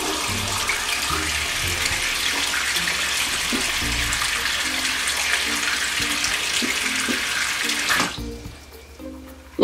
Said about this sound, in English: All right, turning on the water.